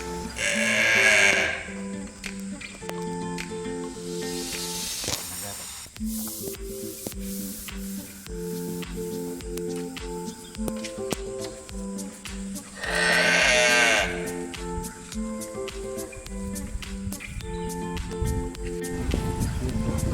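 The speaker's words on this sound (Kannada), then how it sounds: "ಈ ಕರು ಅಂತೂ ನಮ್ಮ ಕ್ಯಾಮ್ರಾವನ್ನೇ ನೋಡ್ತಾ ಇತ್ತು ನೋಡ್ತಾ ಹಾಗೆ ಆವಾಜನ್ನು ಹಾಕ್ತು" A young calf bleats repeatedly, high and nasal, in two strong bursts amid steady background music-like tones and clatter.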